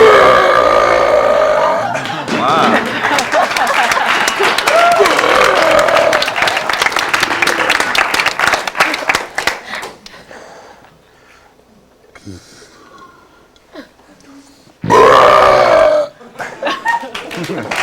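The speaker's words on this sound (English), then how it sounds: "I'm gonna do my famous thunder burp." A man performs a loud, prolonged burp on a variety show stage, a deep rumbling belch lasting several seconds, followed by quieter sounds and a second short, loud burp near the end.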